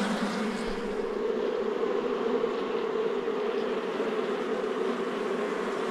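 Giant honey bees swarm around a long nest during a honey harvest, their dense, steady buzzing drone filling the air continuously and fairly close, with no talking.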